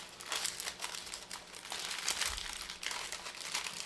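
Parchment paper is folded and creased for en papillote, producing repeated close crinkling and crumpling rustles in bursts, with no speech.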